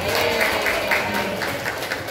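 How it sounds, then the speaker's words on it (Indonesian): Applause from staff at a school work meeting in an Indonesian elementary school, a continuous dense patter of clapping at moderate volume, with faint background voices mixed in. "Tepuk tangan untuk kita semua."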